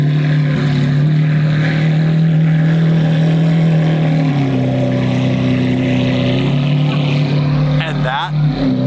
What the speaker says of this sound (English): Now they're moving all the other crazy cars.